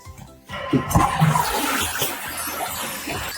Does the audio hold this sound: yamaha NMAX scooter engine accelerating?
no